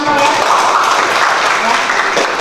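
Brief classroom applause for a student, a close, steady wash of many hands clapping mixed with murmuring voices.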